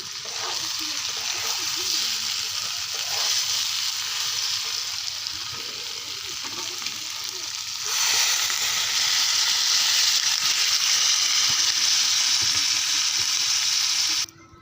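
Hot water is poured into spiced meat fried in a pan, and the loud continuous sizzle swells to a stronger hiss midway and then cuts off abruptly at the end.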